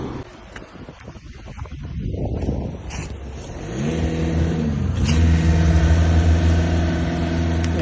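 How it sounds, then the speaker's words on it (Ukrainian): A 2018 Skoda Octavia A7 with a 2.0 diesel engine cranks and catches after a few seconds of quiet handling noise, then settles into a close, steady idle with a brief rev, loud and alone. "Зараз ми от заведемо даний автомобіль."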